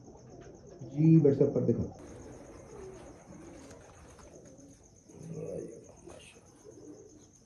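Breeder pigeon cooing at close range, with one throaty burst and a softer coo a few seconds later. Someone talks at the same time and a faint steady high tone runs underneath.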